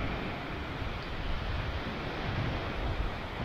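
Sea waves on a Tuscan riviera beach in light drizzling rain, a continuous broad wash of surf with gusty wind buffeting the microphone, steady and fairly close.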